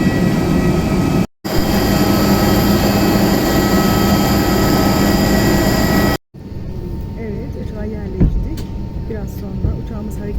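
A loud, steady roar of an airliner's jet engine at Skopje airport fills most of the clip, broken by two brief cuts, then fades to quieter ambient rumble with muffled voices.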